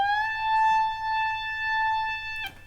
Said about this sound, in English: one tone down here and bend it up, and it will sound like this.